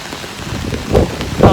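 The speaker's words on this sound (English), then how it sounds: "I knew it was gonna rain, but I didn't think it was gonna rain this much." Heavy rain pours down on a Tokyo street, a dense steady hiss of drops striking pavement and surfaces close by, with a couple of louder splashy swells; no talking.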